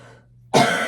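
A single sharp cough bursts out after half a second of near silence, close and loud, trailing into a brief breathy rasp.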